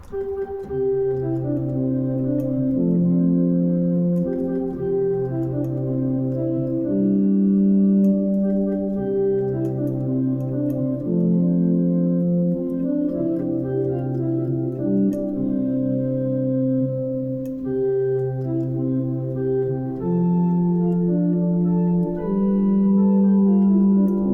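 An organ plays the Give Me Joy in My Heart (Sing Hosanna) melody over a sustained bass line, with steady held notes and a clear, close, even tone throughout and no talking.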